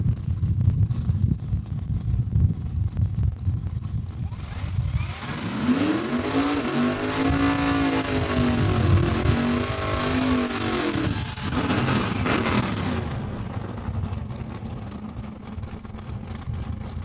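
A drag race car at Saskatchewan International Raceway in Saskatoon launches and accelerates hard down the strip, its loud engine roar climbing in pitch for several seconds over steady crowd and track ambience before fading.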